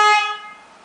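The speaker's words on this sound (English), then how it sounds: "It's got a loud horn too." A single short, loud honk from the horn of a 2006 Chrysler PT Cruiser, bright and brassy, heard close and alone before fading quickly.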